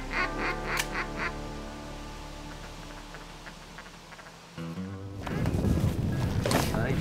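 Ducks quack during a duck hunt, a run of harsh nasal calls at the start over a low background hum, then a busy burst of quacking and splashing-like noise toward the end.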